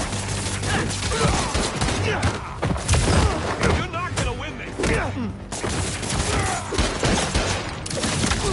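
Gunfire in the Spider-Man 2 game on PS5: dense, rapid bursts of shots and heavy thuds run through the whole stretch, with game voices and music layered underneath.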